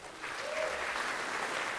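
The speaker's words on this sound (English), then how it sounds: "And get a round of applause for all the students" Applause at a university closing ceremony, where a crowd claps for the students in a steady, dense wash that swells after a brief quiet start and holds through the end.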